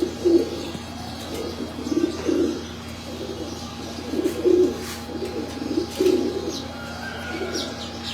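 Pigeons cooing close by in a breeder's loft, a steady run of soft, throaty low coos repeating in rhythmic phrases over a faint background hum, with a few light chirps.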